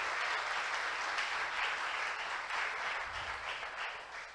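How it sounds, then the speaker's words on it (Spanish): A church congregation at a Christian sermon breaks into sustained applause, a thick, steady wash of clapping from many hands that carries on evenly throughout with no speech over it. "Dale un aplauso al Rey de Reyes y Señor de Señores."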